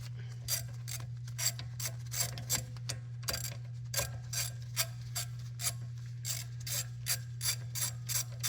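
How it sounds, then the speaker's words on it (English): Ratchet with a 15mm socket working the brake bracket bolts on a 2017 Buick Regal GS AWD, a steady string of close, crisp clicks in repeated bursts over a constant low electrical hum. "These are going to be 15mm sockets."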